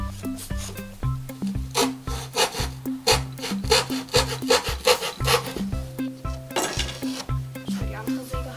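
Children saw wood with a hand saw in a home workshop, a close rasping back-and-forth rhythm of repeated strokes, with occasional knocks and children's voices talking.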